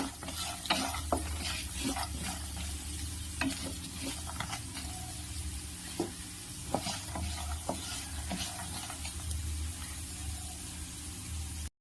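Coriander seeds, cumin and mustard seeds fry in a pan for a Telugu cucumber chutney, giving a steady close sizzle with repeated sharp crackles and pops from the spices, alone with no voices.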